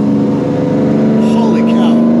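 A Lamborghini Diablo engine revs loud and close on a canyon road, its steady droning tone rising in pitch toward the end, with people talking over it.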